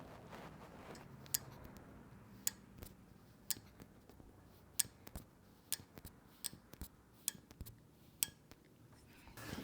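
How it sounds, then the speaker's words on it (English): A series of sharp, small clicks from an Ohlins rear shock damping adjuster being turned out sixteen clicks, close and distinct, in an irregular rhythm over a quiet background. "I'm going to go ahead and click this out 16."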